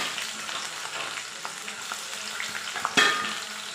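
Onions frying in a pan for a Chettinad-style chicken gravy crackle and sizzle steadily at close range, with scraping stirs and a sharper burst near the end.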